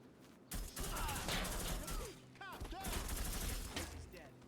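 Enemy shotgun fire in the Reservoir Dogs video game, dense overlapping blasts and gunfire bursts running nearly continuously and loud, mixed with game effects, and a voice talks over parts of it.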